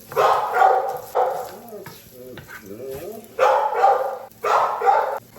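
Dogs bark in a home kitchen in loud, repeated bursts, overlapping the sizzle of Spam frying in a pan, with quieter gaps between the volleys.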